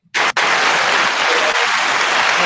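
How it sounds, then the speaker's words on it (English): A band's audience claps loudly and steadily, a dense, close wall of applause that starts abruptly and holds at full strength throughout. "I don't even know if the the clapping is good enough."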